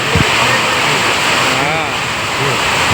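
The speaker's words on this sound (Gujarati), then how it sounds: "દર્શક મિત્રો કેવો વરસાદ આવે જોવો તમે." Heavy rain falls on a farm in a close, constant hiss and roar, with brief voice sounds rising faintly beneath the downpour.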